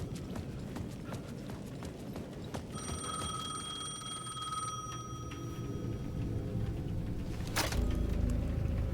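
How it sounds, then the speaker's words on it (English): A bell-like payphone ring in Alan Wake II sounds for about two seconds over a busy, noisy background, followed by a sharp clatter. "The payphone at the edge of the plaza was ringing again."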